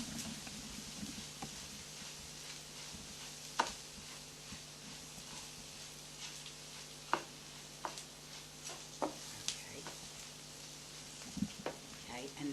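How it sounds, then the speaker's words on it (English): Rice sautéing in mushroom oil in a pan for a mushroom risotto makes a steady soft sizzle with scattered stirring clicks and scrapes, a voice talking over it. "we saute the rice in the mushroom oil for a minute or 2"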